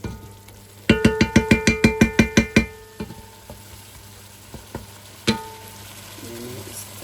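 Masala sizzles and fries in a steel pan while a spoon stirs it, starting with a rapid burst of about a dozen sharp metallic scraping clacks, then scattered single clinks over a continuous low frying hiss.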